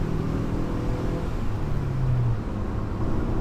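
Synthetic engine note piped into the cabin of a 2017 Ford Focus ST, a steady low droning hum with mild revving swells, continuous and close, with no talking.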